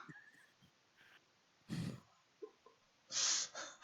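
A human voice imitates a character snoring, giving a few short snorting, wheezy breaths with small gaps between them, quiet and close with no other sound.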